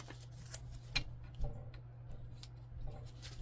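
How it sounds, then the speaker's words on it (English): Scissors snip through the folded paper front of an envelope in a series of small, quick, crisp cuts with uneven spacing, faint and close, with no voices. "So I'm just cutting off the front of this envelope that's folded up."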